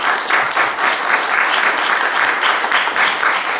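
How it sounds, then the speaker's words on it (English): Audience applause at a film symposium on the golden age of postwar South Korean cinema, a dense, steady round of clapping from a full room that holds evenly throughout with no voices over it. "I think we can offer a round of applause to our..."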